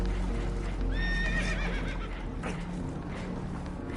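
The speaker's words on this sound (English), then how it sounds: "Horses are spooked, and we're taking on water." Spooked horses whinny loudly aboard a damaged boat in the Red Dead Redemption 2 game, one sharp rising neigh standing out over a dense, constant rush of water and clattering hooves.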